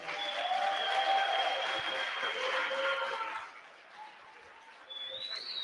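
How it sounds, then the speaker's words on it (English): An audience at a technology conference applauds in a moderate, steady wash that fades after a few seconds. A faint tonal sound follows near the end. "Give it one more round of applause for Ramiro Romani."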